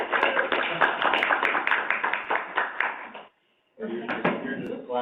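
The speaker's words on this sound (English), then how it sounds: "You're just clapping." Hand clapping from a small group at a local board meeting swearing-in, a steady patter of claps mixed with voices that cuts off briefly and then resumes.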